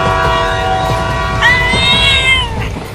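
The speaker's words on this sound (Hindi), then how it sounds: "अरे लगता है ट्रेन रुकने वाली है।" A brief cartoon train horn blares for about a second over a steady rumbling background.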